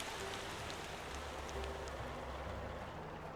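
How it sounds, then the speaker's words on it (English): Steady rain falls in the driving game Motor Town, a faint, even hiss of drops on surfaces with a low vehicle rumble beneath and no talk. "Gonna be a little tricky in the rain here"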